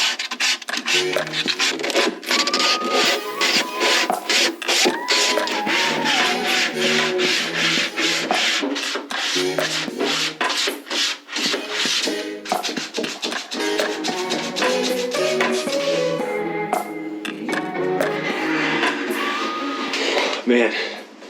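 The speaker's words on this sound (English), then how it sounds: "So I'm going to begin sanding the corners so that way these will be ready to be primed." Fairing in the corners of a sailboat gets sanded by hand, with continuous close scraping strokes in a fast, even rhythm that runs throughout, joined by some background voice.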